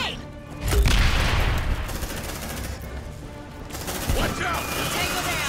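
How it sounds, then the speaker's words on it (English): Gunfire and a heavy grenade blast in the sci-fi shooter Aliens: Dark Descent, a loud boom early on followed by sustained rattling shots and combat noise, with brief voices mixed in. "Grenade."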